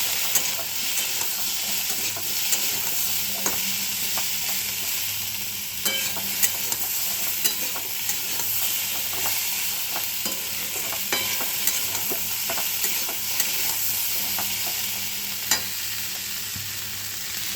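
A curry of vegetables with ginger and tomato fries with a steady sizzle for a long stretch, broken by frequent clinks and scrapes of a spoon against the pan. The sound is moderate and close, with no talking.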